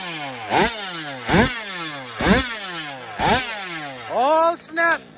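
A new BR34cc engine idles after a fresh start, a chugging, uneven beat with loud pops roughly every second and shifting pitch, then two quick blips near the end, close and alone.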